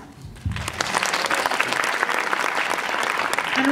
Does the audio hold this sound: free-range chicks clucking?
no